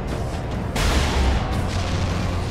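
Lascannon fire in Warhammer 40K Space Marine lands as a loud, heavy blast that bursts suddenly and then rumbles on with a second jolt. No one speaks over it.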